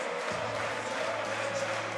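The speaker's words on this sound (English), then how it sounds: "Listen to that crowd" A distant crowd roaring and cheering in a steady wash of noise at a ball hockey game between Switzerland and Italy, the 2015 World Ball Hockey Championships in Zug.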